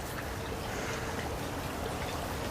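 Creek water rushes steadily through a flooded ravine choked with piled debris and mud, a constant broadband wash of flow heard alone and fairly quiet throughout.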